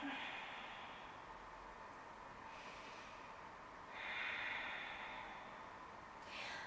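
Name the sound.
ujjayi breathing during yoga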